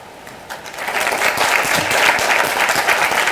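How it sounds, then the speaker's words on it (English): A crowd of graduates at a Proctor Jr/Sr High School graduation ceremony bursts into loud, sustained applause for their parents. The clapping swells quickly and holds steady, with no speech over it. "give a round of applause for your parents"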